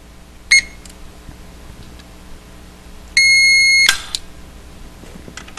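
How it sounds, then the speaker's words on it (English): A Protex fingerprint safe gives a short electronic beep, then after a pause a longer sustained tone ending in a click, close and clear over faint room noise. "Once you've done two beeps, you know that your finger has been enrolled."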